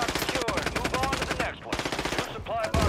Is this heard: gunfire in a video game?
yes